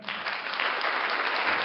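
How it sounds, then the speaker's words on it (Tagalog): An audience applauds in a dense, steady burst of clapping lasting under two seconds, fairly loud and with no talking. "Palakpak tayo."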